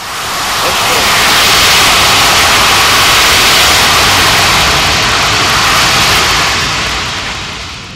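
A C-17 military transport aircraft roars through a tactical takeoff at an air show demonstration in Watsonville, a loud broadband jet rush that swells and holds steady for several seconds before easing slightly.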